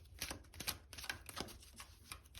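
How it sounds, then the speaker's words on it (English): Oracle cards are shuffled by hand in quick, close bursts of dry papery flicks and riffles, a rapid crisp patter with no talking. "So I'll shuffle 3 more times"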